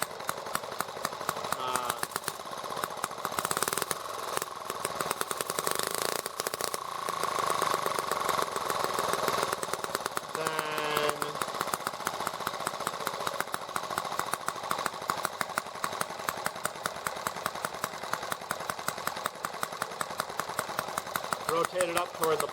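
A small engine idles through a carburetor adjustment, holding a steady, close, buzzing putter with short revving bursts partway through, and voices are heard over it.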